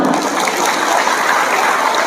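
An audience at an Islamic religious gathering gives dense, continuous applause, a steady wash of many hands clapping at once, loud and sustained with no gaps.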